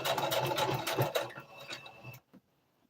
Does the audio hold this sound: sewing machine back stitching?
yes